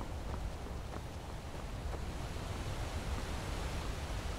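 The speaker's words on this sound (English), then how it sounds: "You can hear the waterfall here." A waterfall in Skyrim rushes steadily on a foggy morning, a soft continuous broadband wash of falling water, faint and unbroken, with no voices.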